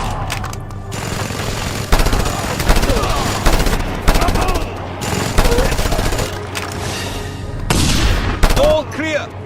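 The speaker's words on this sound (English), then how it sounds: "Mounted gun!" A mounted gun hammers out sustained automatic bursts in the video game Just Cause 2, loud and close, mixed with explosions, impacts and shouted voices in the background.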